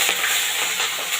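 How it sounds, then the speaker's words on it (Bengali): Fish laid gently into hot oil with a mustard-coconut paste, a close, dense and even sizzle that holds steady through a brief moment. "আস্তে করে দিয়ে দেবো মাছগুলো"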